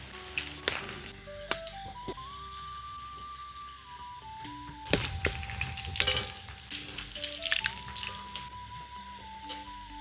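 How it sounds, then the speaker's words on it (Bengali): Chicken pakoras slide into hot white oil in a wok and fry with a bubbling sizzle, punctuated by clinks and louder bursts midway, while a steady electronic tone runs underneath. "এখন পকোড়াগুলো ছেড়ে দিচ্ছি।"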